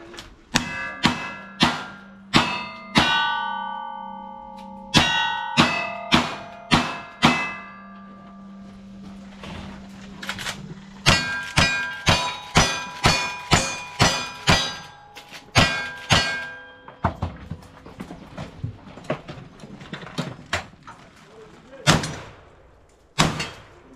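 Cowboy action shooting on a stage at Old York: a rapid string of sharp gunshots, each followed by a ringing metallic clang from steel targets, coming in quick bursts and pauses, with faint voices in between.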